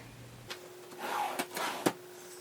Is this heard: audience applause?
no